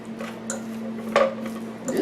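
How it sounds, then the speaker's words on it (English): Italian seasoning being stirred into keto fat head pizza dough in a bowl, with soft scraping and a few light utensil clinks against the bowl over a steady low hum. "I'm going to mix that up in there so the flavors can get into my dough"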